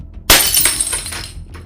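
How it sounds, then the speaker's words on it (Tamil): A glass flask pushed off a surface hits the floor and shatters with a sharp, loud crash, followed by a trailing tinkle of scattering shards that fades out. "இதனை சோதனை செய்து பார்க்க தீர்மானித்த மாயாவி ஒரு சீனனின் பின்புறமிருந்து ஒரு கண்ணாடி கோலையை கீழே தள்ளிவிட்டார்."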